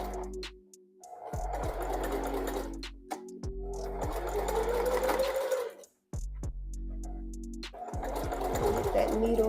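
A sewing machine stitches hair wefts onto a wig cap along a guideline, running loud and close in long bursts with brief stops between, a low hum under the rapid needle chatter.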